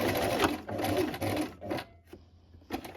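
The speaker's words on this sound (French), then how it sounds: "Arrivé à l'intersection, je vais faire plusieurs points avant-arrière pour renforcer la couture." A sewing machine running short bursts of back-and-forth reinforcing stitches at a seam intersection, a close, rapid whirring chatter that starts and stops several times over a few seconds.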